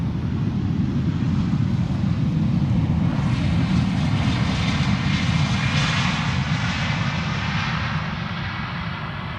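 An airliner departs Schiphol Airport from runway 18L with a loud, sustained engine roar that swells slightly in the middle and eases off toward the end, steady throughout with no voices.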